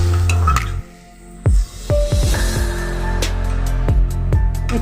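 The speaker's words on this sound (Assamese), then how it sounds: "তাৰ পাছত কাটি থোৱা পিঁয়াজখিনি দি দিছোঁ মই। এনেকৈ লৰাই দিছোঁ।" Chopped onions sizzle steadily in a hot pan while a spoon stirs them, giving scraping strokes and light clinks over the continuous frying hiss, close and fairly loud.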